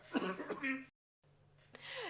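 A few rough coughs and throat-clearing sounds, close and fairly quiet, broken by a short silence.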